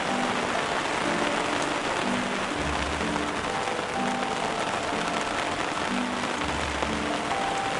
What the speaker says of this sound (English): I'm hiding from the rain under a forest lawn canopy.